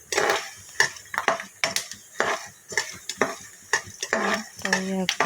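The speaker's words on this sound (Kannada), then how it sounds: "ಇವಾಗ ಚೆನ್ನಾಗಿ ಫ್ರೈ ಮಾಡ್ತಾಯಿದ್ದೀನಿ. ಸ್ವಲ್ಪ ಕರ್ಬೇವಿನ ಸೊಪ್ಪು ಹಾಕ್ತೀನಿ." Curry leaves and lemon rice seasoning fry in a pan, with a soft sizzle under repeated scraping and clinking stir strokes of a spoon against the metal, close by, and a brief voice near the end.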